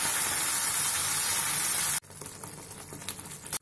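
Tomato and cashew paste masala frying in a pan for bhindi maharani, a loud, steady sizzle that drops abruptly halfway to a quieter, crackling simmer.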